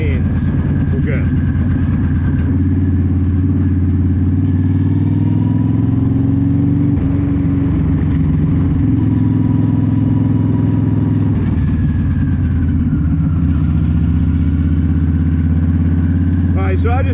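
Yamaha V-Star 1300 cruiser motorcycle on a test ride, a steady loud low engine rumble with gentle rises and falls in pitch, mixed with wind buffeting throughout, and a rider talking over it.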